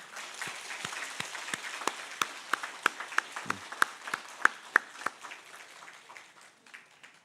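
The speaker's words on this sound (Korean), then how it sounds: "인사드릴 때에 환영의 박수 해주시기 바랍니다" A church congregation gives a welcoming round of applause for a new pastor's wife and two sons, heard as loose, fairly sparse claps building to sharp peaks midway, then thinning out at the end.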